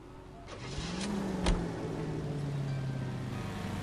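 A car driving in the video game L.A. Noire, with a mid-pitched engine hum rising as it picks up speed, a sharp thump partway through, and a steady drone afterward.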